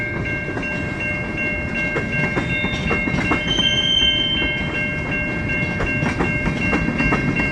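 A long freight train with tank cars rolls past nearby, steady rumble with rhythmic clickety-clack of wheels over rail joints and sustained tonal squeal, loud and continuous without voices.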